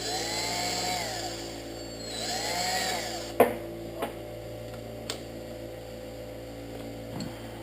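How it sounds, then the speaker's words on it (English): A drill-driven deburring tool whirs in two short slow bursts on a trimmed 9.3x62 Mauser cartridge case, followed by a few sharp metallic clicks and taps over a steady low electrical hum. "Then we come in with our deburring tool."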